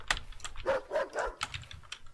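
A dog in the video game Thousand Threads barks several times in short, close bursts, with light keyboard-like clicking in the background.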